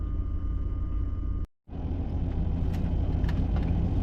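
A van engine rumbles loudly from inside the cabin while driving, with a steady low drone. A brief dropout cuts the sound near the start, and a few faint rattles follow.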